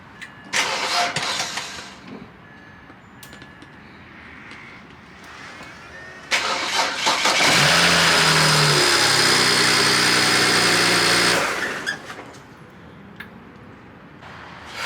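A BMW 335i engine cranks a few times, then catches and runs with a steady loud drone for several seconds before cutting off.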